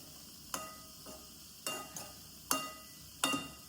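Bitter gourd thoran being stirred in a pan, giving four or five separate soft scraping sweeps with faint sizzling between them, close and quiet, with no talk.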